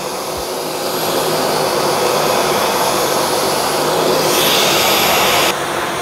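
Dyson V12 Detect Slim cordless vacuum cleaner running steadily at close range, a loud continuous whirring motor hum with a brief shift in pitch near the end, no talking.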